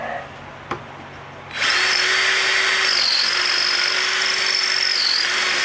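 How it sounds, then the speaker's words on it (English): A faint click, then a power drill spins up and bores a hole near a magnet in a garage, with a steady, loud whine, pitch dipping briefly as it bites in. "the magnet pulls the drill to one side so you don't get a perfect hole"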